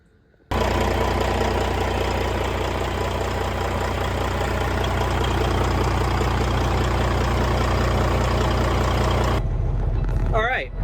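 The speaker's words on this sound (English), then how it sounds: "now we're pulling in Justin Fall's truck" A customer's truck engine idles loudly and steadily as it rolls into a workshop bay, a close, constant low rumble that starts abruptly and cuts off near the end.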